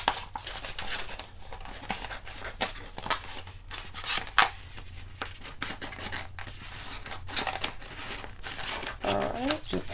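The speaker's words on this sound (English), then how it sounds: "Take my Cricut scissors here and trim this up." Cricut scissors trim a sheet of gray vinyl for a circle monogram decal, making close crinkling, snipping and rustling handling sounds with a person talking over them.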